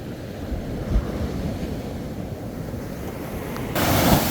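Ocean surf rolls onto a beach with a continuous roar of breaking waves, and wind buffets the microphone. The sound swells louder near the end.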